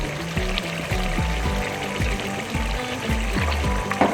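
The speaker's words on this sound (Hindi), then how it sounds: "ये वाले 3 चम्मच हम ऑयल डालेंगे इसमें" Cooking oil poured by the spoonful into cooked, tenderized mutton, heard as a steady close liquid pour with a gurgling rhythm of repeated glugs that lasts throughout, with no speech.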